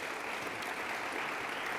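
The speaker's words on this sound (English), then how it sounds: "Give him a round of applause as well." An audience at a business chamber summit fireside chat claps in a round of applause, a quiet, even wash of many hands heard from a distance for a couple of seconds.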